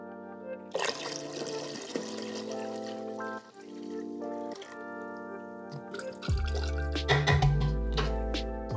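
Vinegar is poured from a jar into jars for refrigerator pickles in a kitchen. Gurgling glugs and splashes start and stop in short bursts, then the pour grows heavier and fuller as the jar fills near the end.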